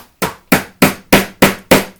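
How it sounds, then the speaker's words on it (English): Six sharp, loud hammer blows strike a rock-hard block of coconut on a kitchen surface, evenly spaced about a third of a second apart, each with a bright crack and short decay. "Oh, I need my hammer thing."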